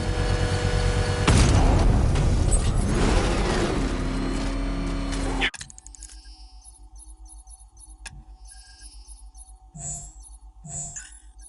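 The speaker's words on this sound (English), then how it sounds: "The bomb's payload is exposed. I can use the power winch to trigger a controlled explosion." A bomb detonates in a controlled explosion set off with a power winch in a Batman game, a loud rumbling blast with engine-like roar that cuts off abruptly, followed by quieter scattered thuds and clanks.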